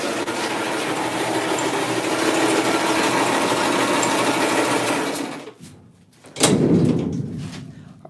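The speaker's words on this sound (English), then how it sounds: "Our old ass paint mixer is so loud." An old paint mixer running loudly in a garage while a Chevelle is prepped for paint, a dense steady mechanical whir that cuts out near the end, followed by a single sharp knock or thump.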